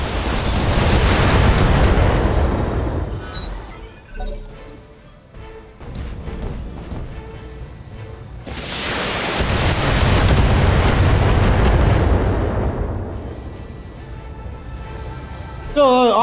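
Mech weapons in BattleTech fire together and explode in two long roaring rumbles with crackling debris, loud and close, with a quieter stretch between them.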